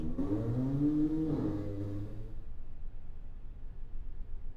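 A loud car revs outside at night, its engine rising and then falling away over about two seconds before fading into quiet background noise.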